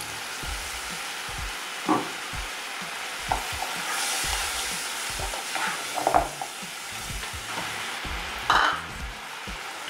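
Onion sauce stirred in a pan, a steady soft sizzle with occasional scraping strokes of the utensil, moderately quiet and continuous throughout with no voices.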